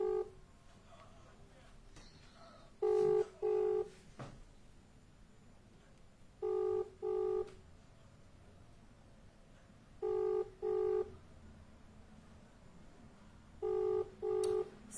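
A telephone call rings out unanswered: four paired ring bursts come at regular intervals, fairly quiet over a near-silent background, with no one speaking.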